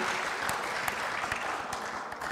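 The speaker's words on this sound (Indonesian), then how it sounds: "Boleh berikan tepuk tangan sekali lagi." Brief, steady applause from an audience at a launch event for transport infrastructure financing, a dense wash of clapping heard alone at moderate distance.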